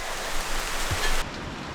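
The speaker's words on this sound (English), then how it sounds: "got about halfway, and it started raining" Rain falling on a forested hiking trail in Hawaii on the way to Likeke Falls, heard as a steady, even hiss of drops that shifts and thins slightly near the end.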